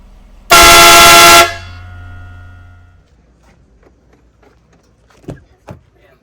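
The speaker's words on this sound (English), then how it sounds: "I'm gonna go ahead and sound the horn off." A Horn Blasters train horn mounted on a Chevrolet Silverado ZR2 gives one loud, brassy blast of about a second, then a fading ringing tail and a couple of faint clicks afterward.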